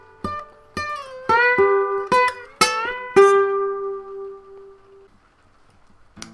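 Electric guitar playing a double stop in a solo: a run of distinct plucked notes with bright attacks, ending on a long sustained ringing pair that fades out, heard alone and close.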